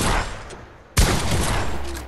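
A sharp gunshot rings out in Fortnite amid ongoing gameplay noise, one sudden close crack followed by a rumbling, dense tail of game sound.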